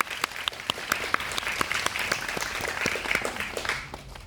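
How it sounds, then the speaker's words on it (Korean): A theater audience applauds to welcome a film director and actors. Individual claps ring out sharply over a steady wash of clapping, fairly close and continuous throughout. "모두 환영의 큰 박수 부탁드립니다"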